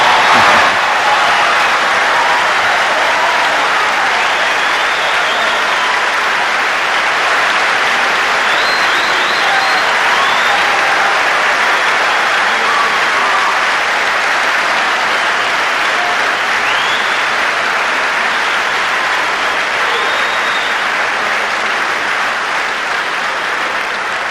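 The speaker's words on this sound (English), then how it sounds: "I can see from your applause" Long, loud, sustained applause from a large audience at a speech by Maurice Bishop, dense continuous clapping with faint cheers rising in places, holding steady for over twenty seconds.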